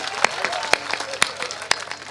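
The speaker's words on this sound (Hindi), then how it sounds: "बनियों के सम्मान में जोरदार ताली बजाइए दोस्तों" An audience at a Hindi kavi sammelan poetry recital claps in strong, evenly spaced beats about twice a second over a softer spread of applause, with a voice faintly underneath.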